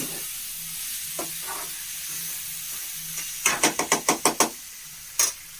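Chana dal and onion fry in a pan with a steady close sizzle, broken by a quick run of six sharp spoon taps against the pan and one more knock a moment later.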